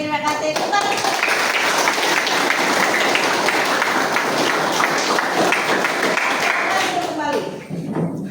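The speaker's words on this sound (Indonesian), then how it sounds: "Tepuk tangan." A classroom of students claps together during a mathematics lesson, loud and close, a dense burst of applause with voices mixed in that fades toward the end.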